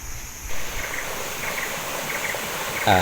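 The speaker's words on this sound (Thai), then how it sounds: "ที่เราเห็นนี้นะครับก็คือลำธารที่ มีน้ำไหลมาจากที่สูงนะครับบนเขาสูง" Forest stream of water flowing down from high mountain ground, a steady close rushing and gurgling wash that continues throughout with no speech.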